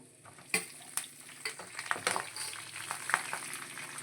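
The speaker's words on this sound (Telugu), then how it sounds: "కొద్దిగా జీడిపప్పు పలుకులండి చక్కగా వేయించేసుకుందాము" Cashew pieces and curry leaves frying in oil in a pan, soft crackling sizzle with several sharp pops and spits scattered across it, fairly quiet and close, no talking.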